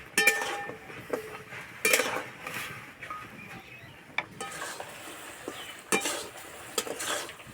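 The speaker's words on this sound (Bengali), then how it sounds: "এইভাবে কিছুক্ষণ নাড়াচাড়া করে নেব।" Semolina sweets stirred in thickened sugar syrup in a pan, with intermittent scraping and clinking of the spoon against metal over a low sizzle, close by and without speech.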